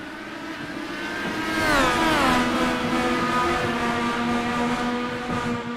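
Indy series race cars in the video game Area 51 accelerate to the green flag, engines rising in pitch together and then holding a loud, sustained whine, with no talk.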